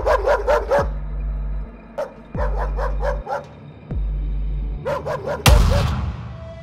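A dog barks in short, sharp bursts of three or four, near and loud, with pauses between volleys, over a low hum, ending in a harsh crash.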